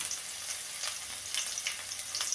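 Crushed garlic frying in a hot pan, with a steady bright sizzle and crackle and small popping spikes, close and continuous with no talking.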